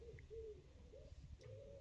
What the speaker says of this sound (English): It sounds like an owl, doesn't it?